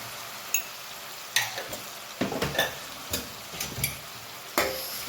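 Turmeric, coriander-cumin, red chili and salt are stirred into a sizzling mixture in a pan, a soft background hiss broken by irregular scraping knocks of a spoon against the pan, close and clear.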